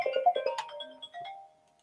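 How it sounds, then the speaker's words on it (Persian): A mobile phone ringtone chiming through a short melodic run of bright electronic tones, loud at first and then trailing off into a sustained fading note, alone without speech. "یک زنگ تلفنی بود خاموش کردیم"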